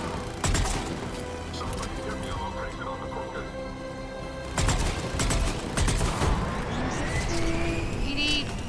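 Sharp bursts of gunfire from Mass Effect 3 crack out repeatedly amid a busy, noisy mix of game effects, with voices talking underneath.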